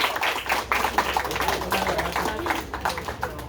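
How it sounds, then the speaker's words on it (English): Big round of applause at a small ceremony, a group clapping steadily for about three seconds with a dense, uneven patter of hand claps, moderately close and fairly subdued. "Big round of applause for Tabor!"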